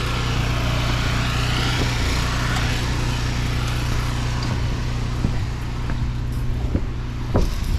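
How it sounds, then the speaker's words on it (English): A paint pump runs steadily on a job site while metal roof coating is sprayed, giving a loud continuous motor drone with a few faint knocks near the end. "Down here below me, that's our paint pump"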